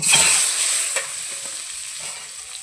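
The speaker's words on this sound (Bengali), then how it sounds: "এটাকে আমি ভেজে নেবো ভালো করে লাল করে" A peeled egg coated in turmeric fries in hot oil in a wok, giving a steady close sizzle with a few soft stirring scrapes, with no one speaking.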